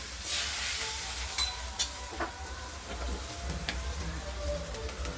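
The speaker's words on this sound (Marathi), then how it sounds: "आता याला छान उकळी काढू" A pot of water mixed with red chilli powder and turmeric heats on the stove, giving off a soft, steady hiss and faint bubbling, quiet and close, with a few light clicks and no voices.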